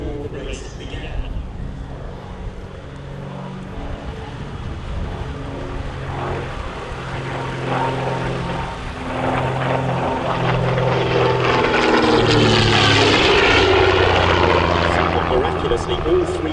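The engine drone of a de Havilland DH.88 Comet racer flying at the Shuttleworth season air show swells from moderate to loud as it passes, with a voice talking at times.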